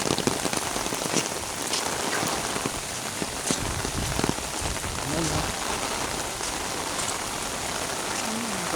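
Heavy rain pours down during flooding, a dense continuous roar of drops hammering surfaces that stays loud and steady throughout, with faint voices buried beneath it.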